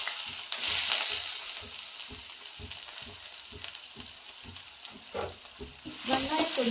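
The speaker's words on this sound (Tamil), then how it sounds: "அடுத்தது வெங்காயம் போட்டுக்கலாம்." Onions fry in a pan for masala paniyaram, a loud hissing sizzle punctuated by regular rhythmic scrapes of a spatula stirring, with sharper bursts of crackle near the start and end.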